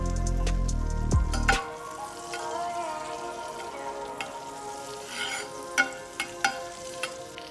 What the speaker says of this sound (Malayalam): ഒലിവ് ഓയിൽ ചൂടായതിന് ശേഷം ലോ ഫ്ലെയിമിൽ വെച്ചിട്ട് ബട്ടർ ആഡ് ചെയ്യുക.